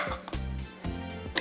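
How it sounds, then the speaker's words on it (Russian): A knife cutting a potato in half in a kitchen, with two or three short crisp chopping strikes against a board at close range, quiet and without talk. "Теперь я ее разрезаю на половинку."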